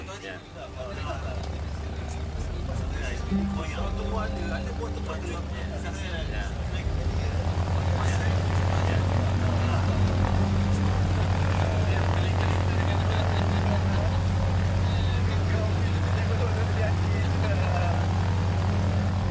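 A propeller airplane's engine drones steadily in flight, a low continuous hum that grows slightly louder and deeper partway through, with talk heard over it.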